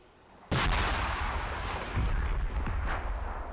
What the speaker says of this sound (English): That looks like 2 rounds of artillery.